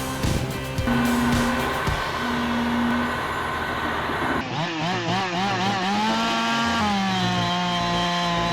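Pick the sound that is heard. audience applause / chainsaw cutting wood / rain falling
chainsaw cutting wood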